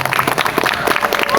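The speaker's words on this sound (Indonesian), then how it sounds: "Tepuk tangan untuk kalian semua" A crowd at an Islamic lecture in Indonesia applauds loudly and continuously for a brief moment, many hands clapping together at close range.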